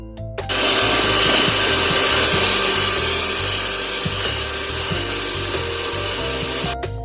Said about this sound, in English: Now we're going to grab a hand mixer and we're going to blend it until everything